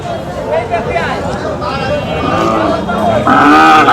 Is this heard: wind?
no